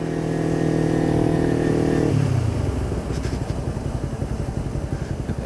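A motorcycle engine with a sharp, track-oriented throttle holds a loud, steady rev, then drops to a lumpy, rhythmic idle after about two seconds, heard up close with no talking.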